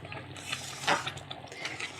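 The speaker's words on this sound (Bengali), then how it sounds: "ঘিটা দিয়ে ভালো করে একটু নেড়ে নেব।" Spoon stirring ghee into rice payesh made with Gobindobhog rice in a pot, soft close scraping and thick wet swishes with one sharper clink, quiet and alone.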